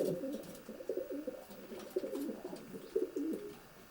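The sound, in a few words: pigeons cooing inside a racing pigeon loft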